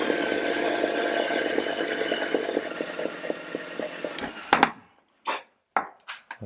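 A power drill whirs steadily into a timber block and lining board, a continuous buzzing grind with a rhythmic ticking, then stops abruptly followed by a few sharp knocks and clatters close by.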